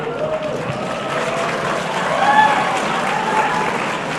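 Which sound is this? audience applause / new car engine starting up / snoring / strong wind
audience applause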